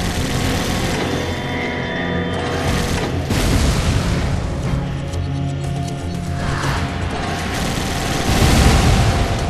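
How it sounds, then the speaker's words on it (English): Loud, dense explosions in the Resident Evil 5 oil field level, heard as continuous booming rumbles with layered blasts and clatter, strongest near the end, with no voices. "Blow it all up!"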